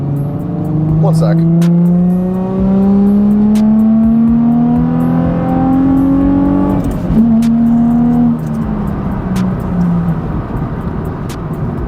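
Nissan 350Z engine revving up through the gears from inside the car, its rising drone swelling, dipping at a shift around seven seconds and climbing again, loud and continuous, with someone talking briefly over it.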